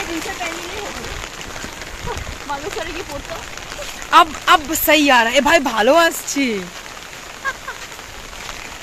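Steady rain patters on surfaces around people heading out in it, a continuous wash under lively conversation and laughter between them.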